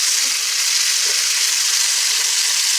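Butter and whole garlic cloves frying in a hot pan for pork chops, a loud, steady bright sizzle with a few soft bubbling pops, no talking.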